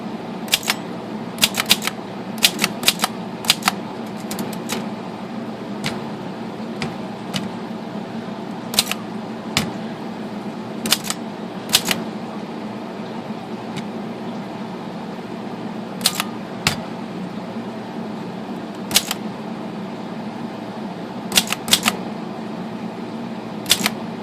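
A Corona Folding 3 Bank typewriter typing, with sharp, close key strikes in irregular bursts and single clacks over a steady background hum, and no voice.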